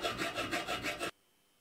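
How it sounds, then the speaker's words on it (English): Six quick, rhythmic rasping strokes of a file across the edge of an iron square tube, close and loud, then the scraping stops abruptly into silence. "The edge of the iron square tube is filed"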